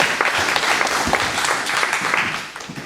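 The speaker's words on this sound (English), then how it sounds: "Give them a round of applause there." A children's GAA coaching workshop group applauds with steady, dense clapping that fades slightly toward the end.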